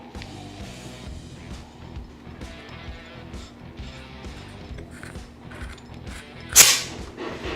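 Detaching the air reservoir of a B-ZAD Klein VR-2 PCP air rifle lets out a single sharp, brief hiss of released air near the end, after quiet clicks and handling noise.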